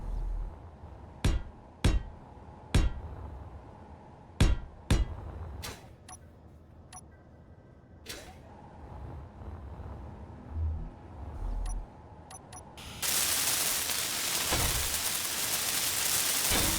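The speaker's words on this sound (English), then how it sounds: "I don't know why I'm welding this." Welding in the video game Space Engineers, heard as a series of sharp, separate clicks and bursts with gaps between them, ending in a sustained loud hissing rush over the last few seconds; no talking.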